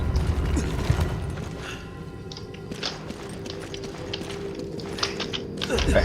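A stone puzzle mechanism turns in Resident Evil 5, with steady grinding, ratcheting gear clicks and creaks over a low rumble, fairly close and continuous for several seconds.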